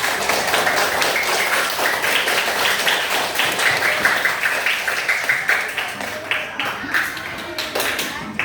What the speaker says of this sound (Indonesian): Semuanya berikan tepuk tangan untuk Sabil dan Sarah.